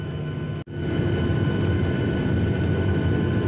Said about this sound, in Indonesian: Badan pesawat terus bergerak mendekati gerbang rata